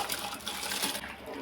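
Soaked basmati rice is tipped into a pot of boiling water, giving a short, close, splashy rush of liquid that lasts just over a second.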